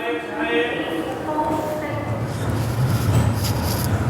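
Visakhapatnam–Mumbai LTT SF Express pulling out of Bhusawal Junction, a steady low rumble and rolling rattle that builds slightly as the train gets moving, heard from on board beneath continuous talking.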